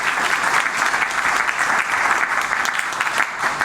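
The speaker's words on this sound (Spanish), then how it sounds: "Lo recibimos con fuertes aplausos" An audience at a legal conference on constitutional precedent applauds to welcome a speaker with loud, sustained, dense clapping that stays even and unbroken throughout.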